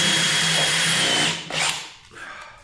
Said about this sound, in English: So I'm just going to have to drill it out.